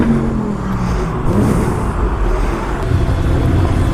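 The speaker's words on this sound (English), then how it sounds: "And I'm here on my Ducati Scrambler" A Ducati Scrambler motorcycle on the road near the Stelvio Pass, its engine droning steadily and fairly loud throughout, with wind and traffic-like roar mixed in and no talking.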